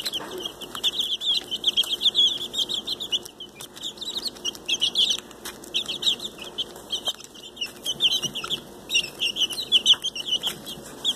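Several Olandsk Dwarf chickens cluck and chirp continuously close by, a busy overlapping chatter of soft calls with occasional louder squawks.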